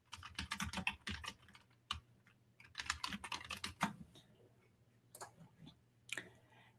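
Bursts of typing on a computer keyboard, quick clustered clicks in several runs separated by short pauses, close and fairly quiet with no talk.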